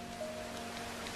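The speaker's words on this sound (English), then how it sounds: "If you get out of the rain, you will be hidden from the rain." Soft, steady rain falls in the video game Rain, a faint continuous hiss of drops with no talking over it.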